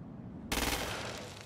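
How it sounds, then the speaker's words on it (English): Rapid automatic gunfire in Crackdown 2, shooting at a freak in a training area, bursting in abruptly after a brief quiet moment and continuing as a dense, loud rattle. "Use precision targeting to shoot the freak's head or legs."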